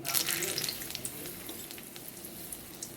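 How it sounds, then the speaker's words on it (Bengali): Whole spices, cardamom, cloves and torn bay leaves, fry in hot oil for a Bengali chicken curry, giving a steady close sizzle with faint crackles throughout. "তেলটা গরম হয়ে গেছে তেলের মধ্যে এবার আমি দিয়ে দিচ্ছি এলাচ আর দুটো লবঙ্গ দুটো তেজপাতা ছিঁড়ে আমি দিয়ে দিচ্ছি"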